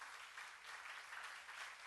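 Steady, even applause from a church congregation during a sermon on the Psalms, a dense wash of many hands clapping at moderate distance with no voices over it.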